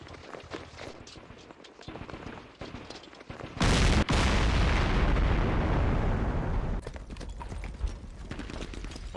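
Mortar attack in the Campaign Series: Middle East war game set in the Yom Kippur War: a sudden loud blast followed by a rumbling burst of explosions lasting several seconds, set against quieter clattering battle sounds.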